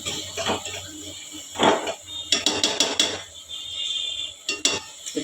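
Gongura (sorrel leaf) curry, village style, being stirred in a pot, with repeated metallic clinks and knocks of the spoon against the rim at an uneven pace, close and fairly loud, mixed with soft scraping and some talking.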